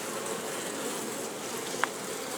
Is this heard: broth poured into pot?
no